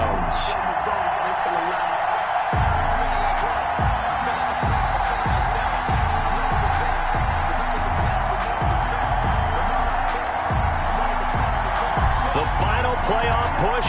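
A stadium crowd in an EA Sports NFL game for a Baltimore Ravens versus Cleveland Browns matchup roars as a steady wash of noise, with a rhythmic thumping beat pulsing underneath and a commentator talking over it.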